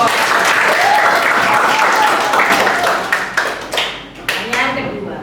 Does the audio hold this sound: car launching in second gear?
no